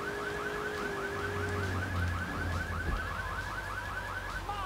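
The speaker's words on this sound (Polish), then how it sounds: "Ok, alarm się wyłączył." A car alarm in Grand Theft Auto 3 warbles in a steady rapid repeating pattern, continuous and moderately loud, over a low engine hum with no speech.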